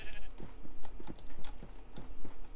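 Sheep in Minecraft bleat in short, repeated calls with a rhythmic pattern, moderately loud and close, with the game's background ambience behind them.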